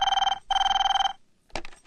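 A household telephone rings in two loud, close bursts of fast trilling with a short pause between, followed by a sharp knock or click near the end.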